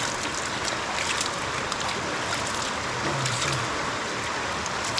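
A loud river in Manchester, Jamaica: a constant, dense roar of rushing water that fills the scene without pause, close and steady, with no clear voices over it.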